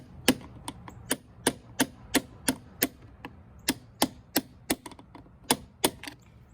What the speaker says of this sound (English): take a hammer, and being careful not to hit the wall to mar it or your finger, tap on the screwdriver